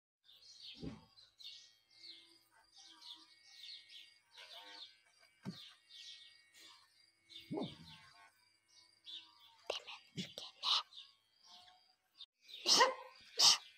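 Dogs being groomed at home bark in scattered, fairly quiet bursts, mixed with high chirping squeaks and intermittent clatter, with a louder cluster near the end.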